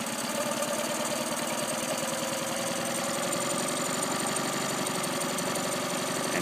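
A troubled engine running rough under throttle, a steady, moderately loud drone with an uneven, knocking texture that never clears up, heard alone with no talk.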